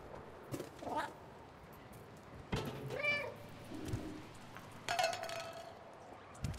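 A cat in the video game Stray meows several times in short, close, separate calls over a quiet background, with faint clinks between them.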